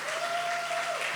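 Brief, faint applause from an audience, a soft patter of clapping lasting about a second beneath a steady tone.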